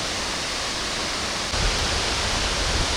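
Halang Jiao Falls on the Bolaven Plateau pours with a loud, constant broadband roar, close and unbroken. Midway a deeper rumble swells into the wash, and no one speaks.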